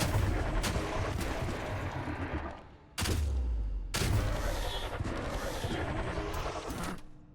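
Gunfire in the strategy game Age of Wonders 4, loud booming shots with sharp cracks, a heavy blast at the start and two more big reports a second apart, over a continuous rumbling battle din.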